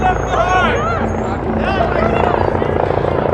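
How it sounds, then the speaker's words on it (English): A medical air ambulance helicopter flies in toward Harborview Medical Center in Seattle, its rotor thumping steadily in the middle distance beneath people talking nearby at a street protest. "That's a life flight coming in to Harborview Medical Center."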